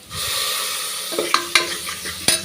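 Curry leaves crackle in a frying pan with onions for a mutton trotter and broad bean curry, a loud continuous sizzle broken by several sharp clanks and scrapes of a spoon in the second half.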